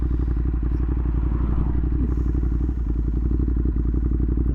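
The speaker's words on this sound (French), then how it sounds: "Une Ducati Monster, ça l'aime pas la chaleur." A Ducati Monster motorcycle idles up close in the heat, giving a loud steady thumping V-twin rumble with a rapid even pulse and a little mechanical clatter.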